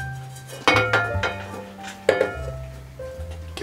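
A frying pan clanks onto a stove with oil for frying gyoza dumplings, two sharp metallic knocks and some lighter clinks in a quiet kitchen.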